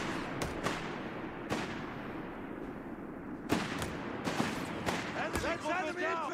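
Rifle gunfire from Company of Heroes 3, riflemen against grenadiers, with scattered sharp cracks and distant reports spread through a busy battle backdrop, with shouted voices over it.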